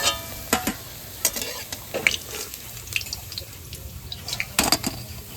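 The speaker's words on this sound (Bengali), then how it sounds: "ঠাকুমা ওদিকে বড়াগুলো ভাজছে" Lentil fritters frying in oil, a continuous close sizzle dotted with frequent sharp pops, clicks and spatters, with no voices.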